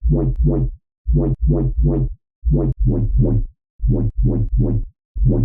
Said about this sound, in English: So this is what the bass sounds like.